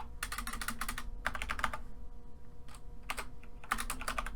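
Java code being typed on a computer keyboard, rapid bursts of close keystroke clicks separated by short pauses over a steady low background hum.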